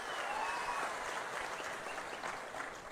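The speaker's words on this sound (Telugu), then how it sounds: "నేను చెప్పింది వాస్తవం అయితే గట్టిగా చప్పట్లు కూడా చెప్పండి మా ఆడబిడ్డలు" Crowd clapping at a political rally speech by CM Chandrababu in Paderu, a steady, dense roar of applause from a large gathering. It is heard from a distance and stays even throughout.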